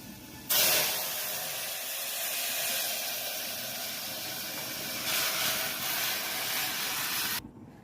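Pepper rasam poured into a hot tempering of seeds and curry leaves fried in a pan, bursting into a loud, steady steamy sizzle that holds throughout and swells again near the end before cutting off abruptly.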